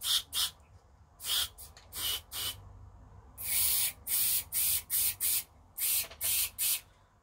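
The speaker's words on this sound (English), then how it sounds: "put in some switch cleaning lubricant inside of it" Short hissing spray bursts of switch cleaning lubricant into a Sony SLF1UB electronic part, a dozen or so quick puffs in irregular clusters, close and fairly loud against a quiet background.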